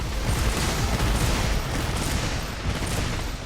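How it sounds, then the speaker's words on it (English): Pierce level 3 bowgun rounds fire in Monster Hunter World: Iceborne as a hunter farms Shara Ishvalda. The shots form a loud, continuous barrage of overlapping blasts with no voices. "we have 20 pierce level 3 shots left. We're just using all of them now"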